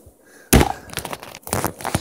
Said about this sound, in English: There goes his first, the regular power bomb